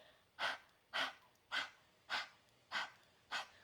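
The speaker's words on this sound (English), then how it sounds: "So if you've never done the breath of fire, it's very simple, and you can imagine like you're fogging up a mirror" Rhythmic breath-of-fire exercise: six quick, forceful exhalations through the mouth like fogging a mirror, evenly spaced about half a second apart, close and moderately loud with passive inhales between and no talking.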